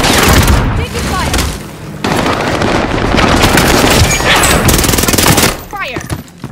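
Dense, loud automatic gunfire in the video game Call of Duty: Modern Warfare, heavy rattling bursts with booming impacts that run almost without a break before a short lull and a fresh volley.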